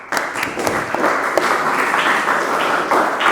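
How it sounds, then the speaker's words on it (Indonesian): A group applauds together at the close of an eco-enzyme lesson, bright steady clapping that starts abruptly and continues at a fairly loud, even level. "Kita beri tepuk tangan untuk kita semua."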